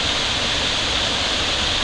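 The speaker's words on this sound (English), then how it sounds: "This is effluent from the stone quarry going into Crabtree Creek" Stone quarry effluent pouring into a creek after a downpour, a steady, broad rushing of water that stays constant and fairly close throughout, with no voices.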